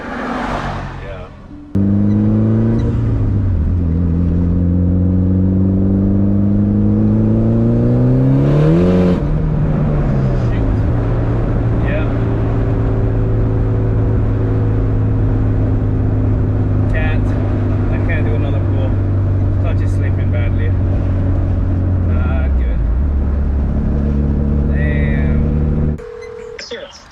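A Mitsubishi Evo 9 MR accelerates hard with a slipping clutch, its engine droning loud and close as the pitch climbs, drops, and climbs again, with people talking over the noise.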